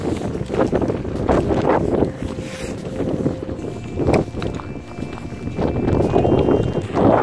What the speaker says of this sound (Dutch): Het waait alleen een beetje